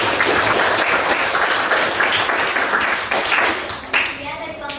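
Sustained group applause for a presenting team in an Indonesian teacher-training session, dense clapping throughout at a steady level, easing slightly near the end.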